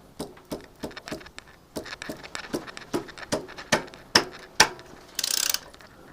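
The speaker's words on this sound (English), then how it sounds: "so let's slacken this off" A spanner's ratchet clicks repeatedly while slackening a bolt on a Cub, a steady series of sharp metallic ticks close by that speeds up slightly, ending in a brief rasping burst.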